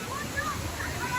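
Overflowing water from the Agus River rushes steadily at a resort, a continuous broadband splashing flow like a small waterfall, close and moderately loud throughout.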